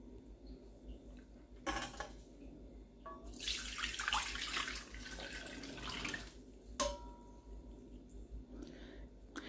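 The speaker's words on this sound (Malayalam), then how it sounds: "ഇനി നമുക്ക് ഒരു പാത്രത്തിലേക്ക് അരിച്ചു മാറ്റാം" Soaked herbal water for a hair-growth remedy is strained and poured into a bowl, with bursts of splashing and trickling liquid amid light clinks of kitchenware, fairly close and with no talking.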